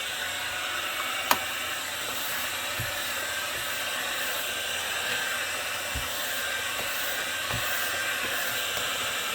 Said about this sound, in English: I probably do need to vacuum that fan out and this grill as well